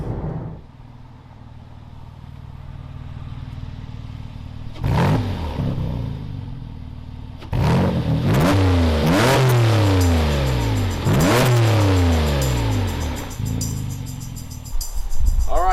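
A Porsche or Aston Martin sports car engine revs hard toward 7,000 rpm in loud, close, repeated rising pulls, each climbing in pitch before dropping at a gear change, with no talking.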